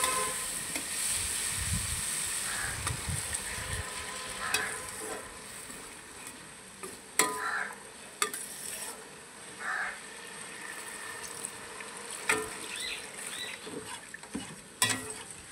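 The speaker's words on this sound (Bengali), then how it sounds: "এবার এর মধ্যে অল্প জল দিয়ে দেবো।" Egg kofta curry simmering in a pan after a little water is added, a soft bubbling sizzle and crackle with intermittent stirring scrapes and clicks, close and fairly quiet, with no speech.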